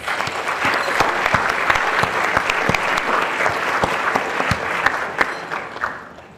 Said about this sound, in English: Give these folks a round of applause, please.